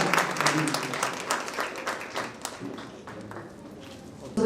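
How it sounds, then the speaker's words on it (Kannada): Audience at a Bidar honouring ceremony claps for staff being felicitated, a dense patter of many hands at moderate distance that gradually thins and softens toward the end, with some voices mixed in. "ಎಲ್ಲರೂ ಜೋರಾಗಿ ಚಪ್ಪಾಳೆ ಮುಖಾಂತರ ಅವರನ್ನ"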